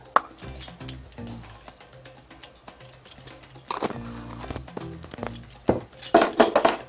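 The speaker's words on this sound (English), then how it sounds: "We're going to give that a good stir and make sure that's all good and incorporated" Dry cornbread ingredients with baking powder and salt stirred in a bowl, a spoon scraping and tapping in uneven strokes, growing busier and clinking toward the end.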